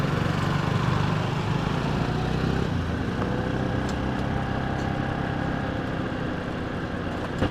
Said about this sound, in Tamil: நல்லாவே இன்ஜின் இழுக்குதுங்க